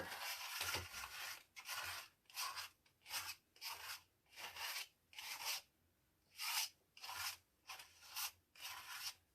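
A palette knife scrapes paint across a canvas in about a dozen steady back-and-forth rasping strokes, close and soft with short pauses between them and no talking.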